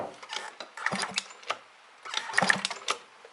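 The engine of a Yamaha Jog Aprio scooter with an electrical fault is cranked during an ignition spark check. It gives two bursts of rapid, close mechanical clattering and ticking, with a short pause between them.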